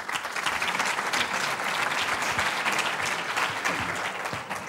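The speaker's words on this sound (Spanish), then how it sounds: "Fuerte aplauso para ellos." A conference audience applauds steadily and loudly, a dense wash of clapping that continues throughout.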